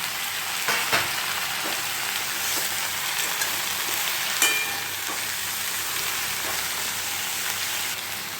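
Chopped vegetables hit hot oil already frying with onion, garlic and chilli for a gochi fish curry, a loud, steady crackling sizzle with a few clinks from stirring.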